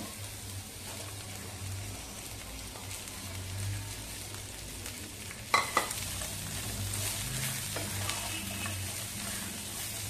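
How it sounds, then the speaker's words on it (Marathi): Washed cluster beans roasting in a small amount of oil in a pan, a soft steady sizzle with a couple of sharp clatters as they are tossed and stirred, no talk. "आणि त्याच्यामध्ये ही धुवून घेतलेली गवार घालूया. आधी आपण गवार भाजून घेऊया."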